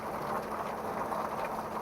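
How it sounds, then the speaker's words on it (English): Rain easing off outdoors at a home near a driveway, a soft steady wash of falling drops with a low rumbling undertone, moderately quiet and unbroken with no voices. "I just got here just in time to see the rain lessen up"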